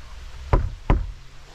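Two sharp knocks on a door, close and loud, land about a third of a second apart. Quiet room tone surrounds them.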